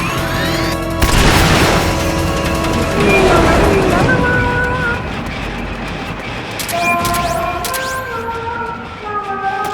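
Pupa boss firing its boosters in Metal Gear Solid Peace Walker: a loud, dense roaring rumble with booming bursts and rising whooshes, layered with tonal game effects and music.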